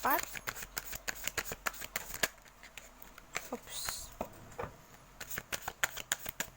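Tarot cards being shuffled in a quick run of crisp riffles and soft slaps, steady and close, with a brief bright whoosh partway through and no voices.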